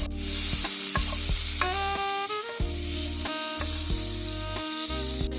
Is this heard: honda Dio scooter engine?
no